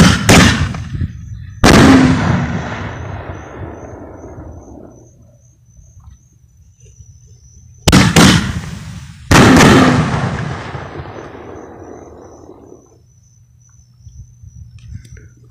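A firework show with aerial shells bursting: four loud sharp booms in two pairs, each followed by a long crackling, sizzling tail that fades out, with crickets chirping faintly between bursts.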